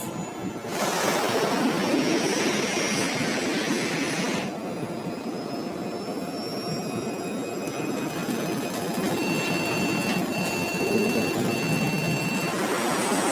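A jet airliner accelerates down the runway for takeoff, its engines giving a loud, steady roar and whine that builds and holds without a break, with no talk.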